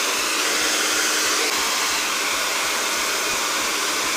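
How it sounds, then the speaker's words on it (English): Loud, continuous airflow from a hairdryer runs without a break, a steady rushing hiss with light periodic clicks beneath it. "I'm pulling the brush right through my hair, but following it with the hairdryer."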